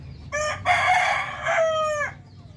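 Darag native rooster from Zaragoza, Nueva Ecija, crowing once up close: a short opening note, then a long, loud, harmonic call that drops in pitch at the end, with faint farm background beneath.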